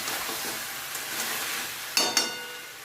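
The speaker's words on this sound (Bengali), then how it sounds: "যাতে কাঁচা লঙ্কাটা চলে যায় আদা রসুনে। কষিয়ে নিচ্ছি দেখুন।" Green chilli, ginger and garlic sauté in hot oil, giving a steady close sizzle with a couple of sharp scraping stirs near the end and no talking.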